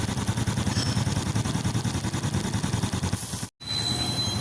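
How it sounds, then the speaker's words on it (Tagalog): A Yamaha Sight motorcycle with a suspected stator fault and a stalling problem runs at a steady idle close by, its rapid even engine pulse continuous alone, broken only by a brief dropout near the end. "titignan naman natin kung hindi na mamamatay itong motor na to"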